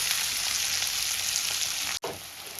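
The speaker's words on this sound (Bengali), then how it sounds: "এবার আলুগুলো আমি লাল লাল করে ভেজে তুলে নেব" Potatoes deep frying in hot oil in a wok for Kashmiri aloo dum: a steady, close, bright sizzle with no voices, broken once by a very brief dropout near the end.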